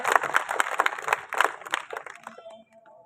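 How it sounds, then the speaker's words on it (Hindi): Audience at a kavi sammelan poetry gathering in Pichhor claps to welcome a poet onstage, a dense burst of applause that tapers off after about two seconds into scattered claps and faint murmuring. "जोरदार तालियों के साथ स्वागत।"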